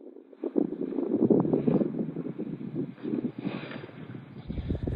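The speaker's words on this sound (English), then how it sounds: "It's freezing and windy and unbearable" Gusty wind buffets the microphone in rough, uneven bursts, loud and close, with no voices present.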